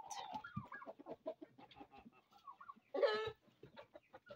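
Young laying and native chickens around 21 days old with a pair of turkey toms, clucking in a poultry pen: repeated short clucks and calls in an irregular rhythm, close and moderately loud, with one louder squawk partway through.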